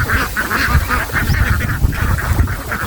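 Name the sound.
egg-laying ducks quacking while being fed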